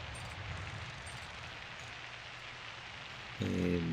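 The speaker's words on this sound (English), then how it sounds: "I love the sound of the rain" Steady rain hiss in the airport-building game SimAirport, a continuous wash of falling rain with a louder low tonal game sound entering near the end.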